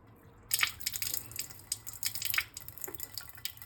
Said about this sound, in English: That's the air in the system coming out.